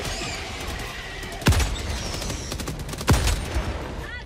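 Gunfire in the video game Helldivers 2: two loud, sharp shots about a second and a half apart, ringing over a steady bed of battle noise and faint background sounds.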